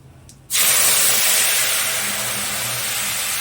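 Turmeric, green chili paste and ground cumin hit hot oil in a pan and set off a sudden loud, broad sizzle that carries on steadily as a hissing fry, with a quiet kitchen clatter just before it.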